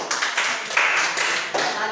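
Audience applause at an Indonesian religious talk, a brief burst of dense clapping with a sharp onset midway and a fresh swell near the end.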